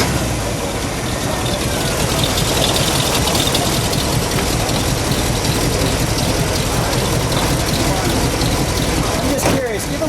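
A 1971 AMC Javelin AMX with a 401 V8 fires up and idles loud and close, a dense, rumbling, slightly lumpy throb that holds steady throughout with a faint mechanical rattle.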